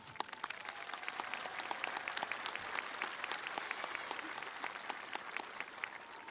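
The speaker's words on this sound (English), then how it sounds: "Please give them a round of applause." Sustained applause from a large graduation crowd at Hopkinsville High School, Kentucky, honoring graduates' parents and families, with dense steady clapping throughout and scattered sharper individual claps standing out near the listener.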